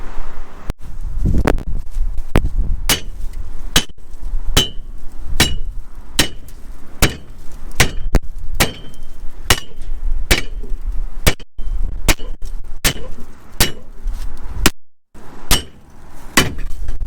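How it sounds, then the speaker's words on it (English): A sledgehammer slams repeatedly into an old Chevy Nova car body, delivering loud, sharp metallic whacks at a steady pace of roughly one per second. Faint glass clinks and rustling sounds fill the gaps between strikes. "I need that sledgehammer if it's sitting over there somewhere."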